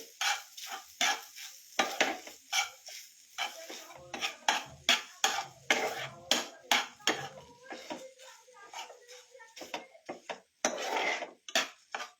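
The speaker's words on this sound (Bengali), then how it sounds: "এটা একটু নেড়ে দেবো ভালো করে।" A utensil stirs paneer filling for chitoi pitha in a pan, with repeated close scraping and clinking strokes in an uneven rhythm over a faint sizzle, and a voice briefly heard.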